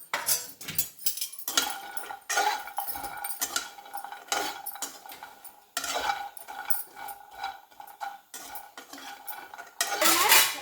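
Pistachios and walnuts roasting in a pan over high flame, stirred with a utensil that scrapes and rattles against the metal in repeated bursts, nuts clattering with short pauses between strokes.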